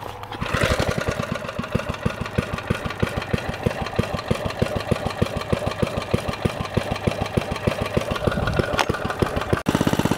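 An old Pennsylvania Exeter reel mower engine fires up at low throttle and runs with a steady, rapid chugging idle, loud and close, before a brief drop near the end.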